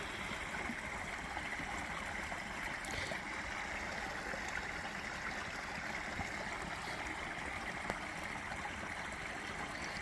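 A forest stream runs over jagged rocks, a steady, dense rushing and babbling wash of water heard up close throughout, with no voices.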